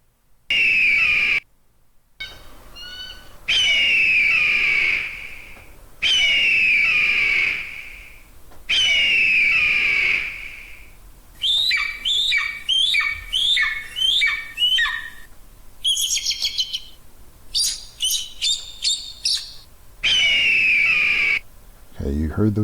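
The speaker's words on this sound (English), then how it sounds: "that's the sound of an eagle" Eagle calls ring out repeatedly, loud shrill descending squawks alternating with bursts of rapid chittering notes and brief silences.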